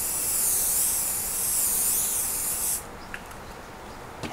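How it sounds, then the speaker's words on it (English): A can of quilt basting spray hisses in one continuous, close burst for almost three seconds, then stops, leaving quiet room noise with a few light taps. "You want to shake it and then just give it a light spray."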